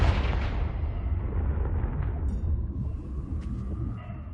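The Confringo fire spell in Hogwarts Legacy goes off as a loud, close explosion with a heavy low rumble, then fades into a lingering tail with small crackles.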